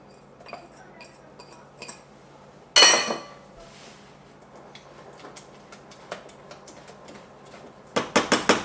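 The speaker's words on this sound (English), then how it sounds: "This is a little lumpy, so I'm going to whisk it in." A metal whisk clinks and taps against a pot while butter is worked into thick lemon pastry cream for a fruit tart. The taps are light and scattered, with one louder scrape and a fast burst of strokes at the end.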